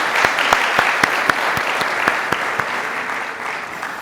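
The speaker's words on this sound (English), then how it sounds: "the Congress Committee needs a great round of applause and support" A conference audience gives a round of applause, a steady, dense patter of many hands with a few sharper individual claps standing out, sustained evenly throughout without talk.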